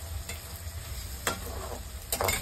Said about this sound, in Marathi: कांदा पिवळा होईपर्यंत हलवायचा.